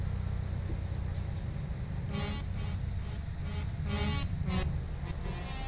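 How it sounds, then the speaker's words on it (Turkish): Truck horns honking in Euro Truck Simulator 2 multiplayer, several short blasts in irregular succession over a constant low engine and traffic hum, fairly faint overall. "Burada kornaya falan abanıyorlar abi."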